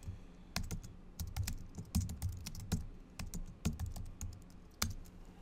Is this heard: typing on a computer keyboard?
yes